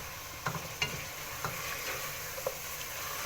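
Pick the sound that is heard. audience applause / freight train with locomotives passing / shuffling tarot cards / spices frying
spices frying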